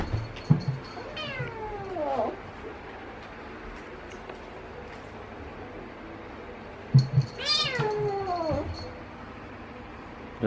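Two drawn-out, wavering meows from house cats, close and loud, separated by a long quiet stretch of low background noise.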